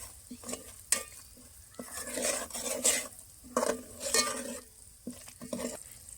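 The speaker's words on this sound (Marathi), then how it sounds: "सर्व मसाले आता याच्यामध्ये घालून घेऊ आपण. सर्व मसाले मिक्स करते." Spices stirred and scraped in a hot pan for Agri-style Popat fish curry, a sizzle running under repeated bursts of scraping strokes, close and moderately loud.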